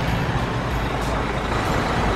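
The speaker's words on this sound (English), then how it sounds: "This is a grader." Motor grader engine in a construction video game, a loud, steady diesel rumble that holds constant and is heard alone.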